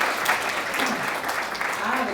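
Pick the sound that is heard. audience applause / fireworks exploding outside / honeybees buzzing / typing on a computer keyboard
audience applause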